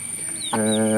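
A mother hen with chicks gives a close, drawn-out clucking call in the second half, with faint background noise before it.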